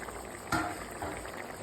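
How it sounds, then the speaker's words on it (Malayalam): A pot of masala curry with snakehead fish bubbles steadily at a low, continuous boil, heard close and faint, with one slightly louder pop partway through. "അരപ്പൊക്കെ നല്ല രീതിയിൽ തിളച്ചിട്ടുണ്ട്."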